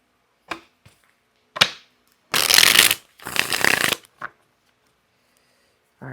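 Playing cards being shuffled in a few short bursts: quick riffles and taps, then two longer, louder riffling runs, close and clear in a quiet room with no talking.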